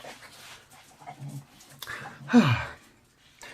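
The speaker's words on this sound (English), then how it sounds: "Bear with me 1 second, because the dogs are just being naughty." Two dogs whimper and scuffle playfully indoors with soft panting and shuffling, ending in one drawn-out, falling whine near the end.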